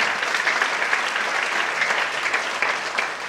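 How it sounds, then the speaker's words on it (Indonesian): Church congregation breaking into sustained applause during a sermon, dense, even clapping from many hands filling the room, loud and continuous throughout. "Tepuk tangan bagi Allah muda."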